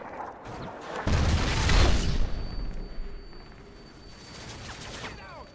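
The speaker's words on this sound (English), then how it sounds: "Predator missile inbound" A Predator missile strike explodes in Call of Duty Modern Warfare 3 on PS3, a loud booming blast with rumbling debris that fades into distant gunfire and game ambience.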